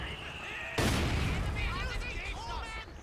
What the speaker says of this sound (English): So my mortar's doing some damage to him